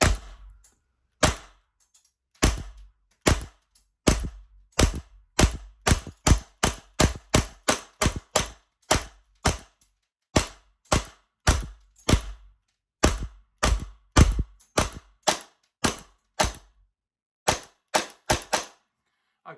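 A Novritsch SSP28 gas blowback airsoft pistol fired through a chronograph: dozens of sharp, close cracks in quick, uneven succession with short pauses between bursts, and no talking.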